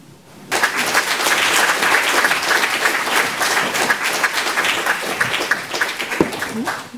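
After a talk at a book launch, an audience bursts into sustained applause that starts abruptly, stays dense and even, then thins near the end with a sharp knock.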